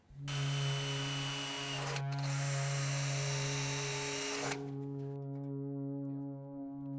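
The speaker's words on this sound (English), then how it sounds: "Now I can match drill." A power drill whines loudly and steadily while match drilling metal tabs for nut plates on a RANS S-21 aircraft cage, briefly pausing once, then spins down into a humming drone as it stops.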